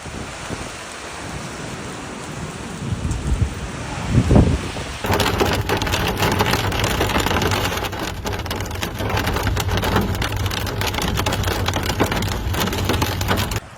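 Heavy rain and hail pound down in Valencia during an evening storm, a dense steady roar of rain and ice hitting surfaces with a low rumble, growing louder partway through and continuing without voices.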